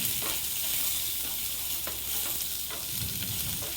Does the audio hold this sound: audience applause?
no